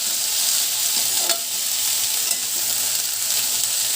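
Boiled beet, carrot and potato being stirred together in a pan, a soft continuous sizzle with light scraping, close and fairly quiet.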